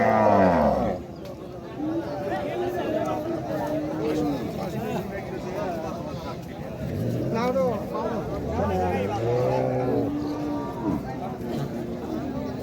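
Cows at a cattle market, lowing repeatedly with long moos near and farther off, over a constant murmur of crowd chatter and people talking.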